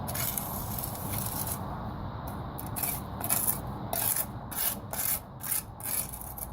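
Cement is swiped sideways with a tool to fill the gaps between paving slabs and slates, giving a close, gritty rubbing and scraping in repeated strokes over a rough outdoor background.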